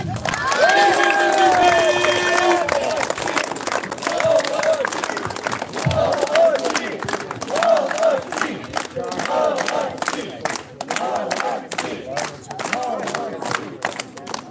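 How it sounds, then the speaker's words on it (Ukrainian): An audience at a football awards ceremony for an amateur club shouts and cheers loudly, then breaks into scattered clapping. Voices call out over the crowd throughout. "Аплодисменти їй."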